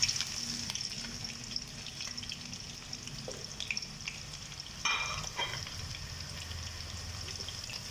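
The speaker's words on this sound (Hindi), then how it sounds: "सबसे पहले हम प्याज लेंगे और प्याज को घी के अंदर डालकर ब्राउन कर लेंगे।" Sliced onion frying in hot ghee in a home kitchen, a steady close sizzle with occasional stirring scrapes and small bursts of crackle, heard alone with no talk.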